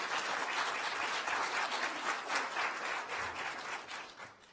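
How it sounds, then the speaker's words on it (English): An audience at an African American Read-In event fills the room with sustained applause, a dense wash of many hands clapping that gradually fades near the end. "Please give a round of applause."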